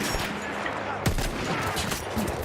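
Rifle gunfire in the World War I shooter game Battlefield 1, quiet distant shots scattered over a busy battle din, with one sharper crack in the middle and a voice briefly audible.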